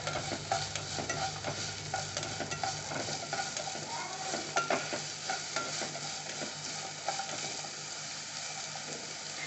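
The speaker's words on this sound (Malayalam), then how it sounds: "ഇനി നമ്മൾ നേരത്തെ അരിഞ്ഞു വെച്ചിട്ടുള്ള മഷ്റൂം ചേർക്കാം. ഇത് ഒരു 2 മിനിറ്റ് നന്നായി ഒന്ന് വഴറ്റിയെടുക്കണം." Chopped mushrooms sautéing in a pan for an omelette make a steady, moderate sizzle with frequent scraping and clicking from a stirring spatula throughout. No voices.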